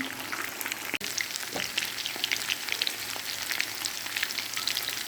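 Breadfruit (jeegujje) kabab pieces frying in hot oil, a continuous close sizzle and crackle with a faint stir or clink near the start and no talking.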